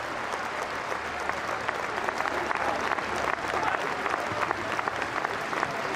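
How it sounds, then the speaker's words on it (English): Football supporters at a Maidstone United versus York City match applaud in tribute, a sustained, even wash of stadium clapping from a large crowd that carries on without a break. "The York City fans as well joining in with the applause under such tragic circumstances"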